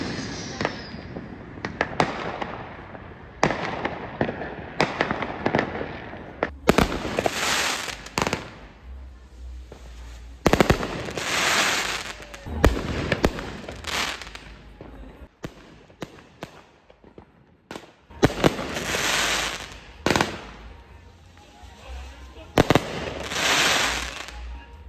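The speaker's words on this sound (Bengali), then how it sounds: "এদিকে কন্টিনিউ আতশবাজি ফাটানো হচ্ছে।" Fireworks bursting one after another for US Independence Day, heard from a balcony at night; loud booming explosions with crackling tails come in clusters, some near and some distant, with faint voices in between.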